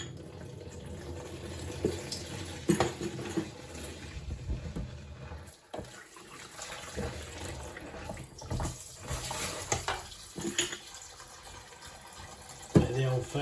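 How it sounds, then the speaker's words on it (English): Warm water runs from a tap into a sink in a continuous splashing stream, with clinks and brief handling noises around it and no talking. "there's the warm water coming through"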